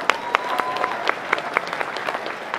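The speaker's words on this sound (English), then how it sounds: "Give these guys a huge round of applause." Audience applause at a magic show, a short burst of steady clapping from a crowd, fairly close and without talk.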